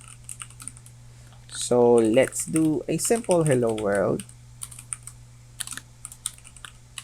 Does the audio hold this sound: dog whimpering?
no